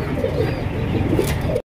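A pair of Bombay pigeons coos steadily at close range, low throaty rolling calls repeating without pause and with no voices over them.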